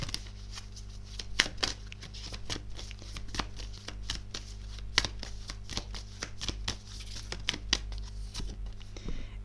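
A deck of cards is shuffled for a card reading, a quick run of crisp riffling snaps and soft flicks repeating close and steady over a faint low hum, with no talk.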